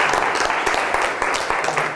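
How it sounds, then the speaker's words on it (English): Listeners at a talk on the future of programming give a warm round of applause: close, crisp clapping from a modest crowd that lasts about two seconds. "let's give Peter a warm round of applause"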